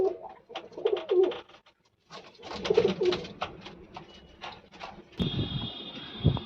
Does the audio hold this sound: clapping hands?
no